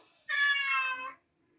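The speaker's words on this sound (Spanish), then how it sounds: "Como hace el gato" A single clear cat meow, drawn out and fairly loud, standing alone against near silence.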